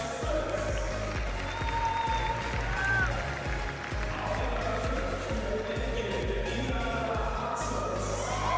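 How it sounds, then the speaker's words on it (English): Belgian fans cheer trackside at an athletics race, a broad crowd roar mixed with footsteps and applause, steady for several seconds with a commentator talking over it. "You could hear the Belgian fans cheering"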